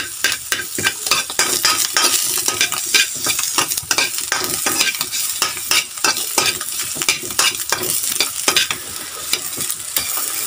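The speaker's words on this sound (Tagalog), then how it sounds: "Lagay ko na ang kangkong." Water spinach tossed in a hot pan with onion and garlic, loud continuous sizzling broken by rapid, rhythmic stirring scrapes, close up with no talking.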